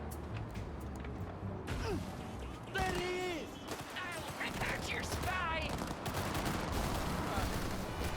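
Rapid bursts of gunfire from a random gang fight in the video game Cyberpunk 2077, sharp overlapping shots and thuds from nearby, with voices and shouting mixed throughout.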